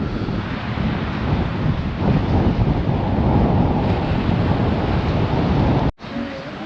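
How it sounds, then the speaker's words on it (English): Strong wind buffets the microphone by Paignton Pier and beach in a steady, rumbling roar throughout, with a brief dropout near the end. "It's a bit windy for the drone, which you might be able to hear"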